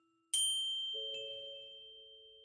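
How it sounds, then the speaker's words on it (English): A single hand bell struck once, its bright metallic ring sustaining and slowly fading, with a second softer chime partway through and no voices. "the sound we had heard was from a bell she was holding"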